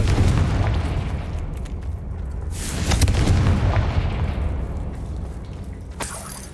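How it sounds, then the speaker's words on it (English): A Confringo fire spell explodes in Hogwarts Legacy with a deep booming blast and a long rolling rumble. A second sharper burst lands near the end, all loud and close, with no talking. "Confringo!"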